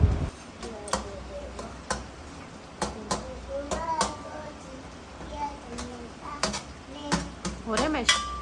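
A metal spoon scrapes and clanks against a metal karahi as mutton roasts for shinwari karahi, sharp irregular knocks and scrapes close by, with talk running underneath.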